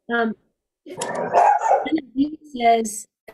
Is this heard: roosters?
no